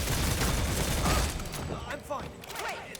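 Rapid gunfire in the shooter game Redfall, a dense loud burst of shots in the first second, then scattered sharper reports and metallic clinks, with someone talking over the action.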